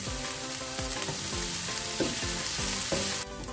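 Onions and fennel seeds sauté in a pan for a Goan crab curry. The sizzle is loud and steady, with scraping stir strokes at a regular rhythm and no talk.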